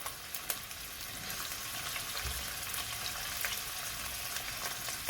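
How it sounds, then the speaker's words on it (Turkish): Steady crackling sizzle of chopped peppers frying in a hot pan, close and continuous, with a few small pops and scrapes. "şöyle biberlerimizi ekliyorum ilk önce doğradığımız biberlerimizi"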